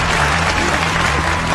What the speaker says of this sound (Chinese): 让我们把掌声送给大家